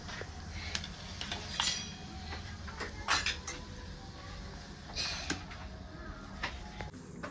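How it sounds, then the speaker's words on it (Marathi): Fried sprouted moth bean cutlets being moved onto a plate, heard as quiet, scattered clinks and taps of utensil against dish in a calm kitchen, no speech. "त्याला एका प्लेटमध्ये काढून घेते।"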